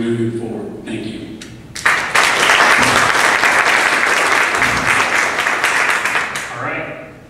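Applause from the audience at a 2012 Dunsmuir city council candidates forum, with a few scattered claps at first, then a loud sustained burst of clapping that holds steady for several seconds and tapers slightly at the end.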